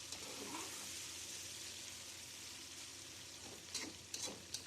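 Meat fried with spices in a pot for yakhni pulao, a soft, fairly faint sizzle with a few brief stirring clatters near the end.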